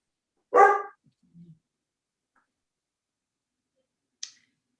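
A dog gives a single sharp bark during a remote video call, followed by a faint low grunt and then near silence, with a brief click about three seconds later.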